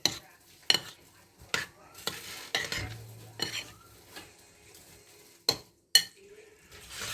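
Stroganoff being stirred in a pan, with repeated scraping and clinking strokes of a utensil against the metal over a soft sizzle, close and fairly quiet, with no talking.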